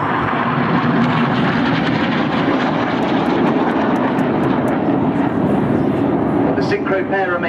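Red Arrows jets at the Farnborough 2012 airshow flying a synchronised display pass, a loud continuous roar of jet engines sustained throughout under a commentator's voice.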